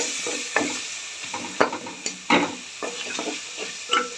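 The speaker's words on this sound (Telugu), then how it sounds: "ఇప్పుడు ఆనియన్ వేసుకున్నాను ఇందులోకి. ఇది కూడా బాగా వేగనియాలి." Chopped onions sizzle in hot oil in a pan for tomato rasam, with bursts of scraping and clattering as a spoon stirs them at close range, no voices.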